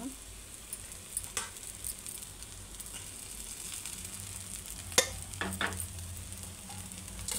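Rava ponganalu batter sizzles steadily in an oiled pan as a little oil is drizzled over the top, a continuous fry hiss with a few light clinks and taps of a utensil.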